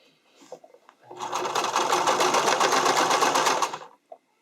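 A sewing machine stitches elastic onto an underwire bodysuit in one loud, continuous burst of fast mechanical whirring lasting about three seconds, with brief quiet handling clicks before and after.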